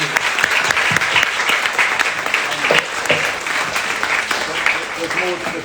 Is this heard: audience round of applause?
yes